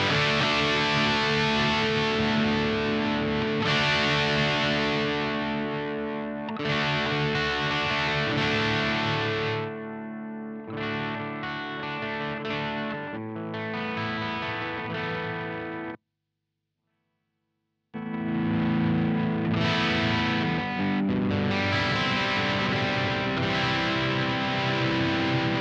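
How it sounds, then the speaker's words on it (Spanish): Electric guitar played through a JHS Hard Drive distortion pedal produces thick, saturated chords and riffs, loud and sustained, with a brief full silence near the end before the distorted playing resumes. No voices are heard. "Ya de movida te das cuenta que es un pedal de... no es un overdrive, ¿sí? Esto es una distorsión."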